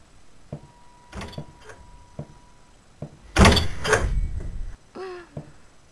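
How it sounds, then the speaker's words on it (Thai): In the horror video game Apartment 666 a door slams hard, a loud heavy bang with a booming low tail near the middle, set among scattered softer clicks and knocks. "เสียงปิดประตูโคตรแรง"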